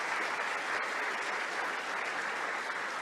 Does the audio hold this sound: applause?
yes